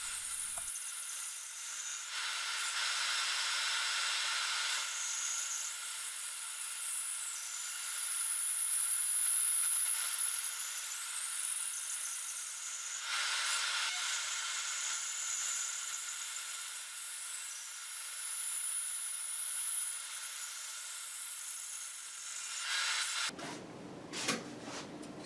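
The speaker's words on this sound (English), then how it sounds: "The rings are sliced on the Accu-Slice system using a 3/4 inch wide, 10 teeth per inch bandsaw blade." A bandsaw with a 3/4 inch wide, 10 teeth per inch blade on an Accu-Slice system slices padauk and olive wood rings. It gives a loud, steady, hissing cut that runs almost unbroken, then stops abruptly near the end.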